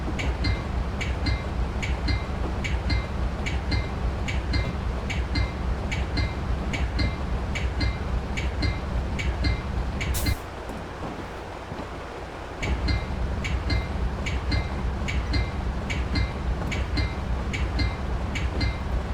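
A metro commuter train runs steadily in Train Simulator 2016 on the Chicago-Aurora line near Union Station, giving a continuous rumbling roll with rhythmic clicks from the wheels on the rail joints. The sound briefly drops quieter for a couple of seconds, then the rumble resumes.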